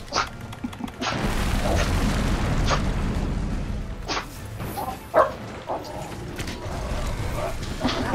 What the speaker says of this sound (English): that's a big explode